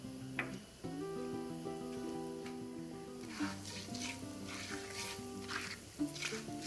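Mustard seeds, urad dal, jeera and hing sizzle in hot oil for a tempering, with a soft, steady crackle that grows busier midway, over a faint sustained tonal hum.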